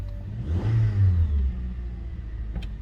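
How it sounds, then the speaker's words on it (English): A 2008 Honda Accord with cylinder misfires starts up and revs, a close engine rising briefly and then settling into a lower idle. "going to start the car and see. It did take a while for it to start. 3 or 4 cranks."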